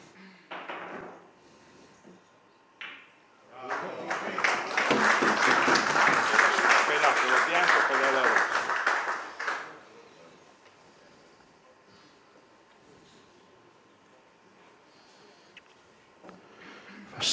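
Applause from a crowd at a sports final, a loud burst of clapping that swells and lasts about six seconds before fading into quiet room noise, with a commentator talking around it.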